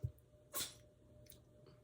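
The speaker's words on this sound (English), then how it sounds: "my cat just sneezed" A tiny, soft sneeze from a cat in a quiet room, followed by a fainter puff a moment later.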